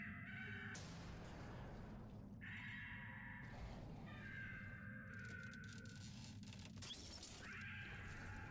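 A bird in the BioShock Infinite video game gives harsh, drawn-out cawing screeches that repeat several times amid crashing, breaking game sounds, all fairly faint and distant.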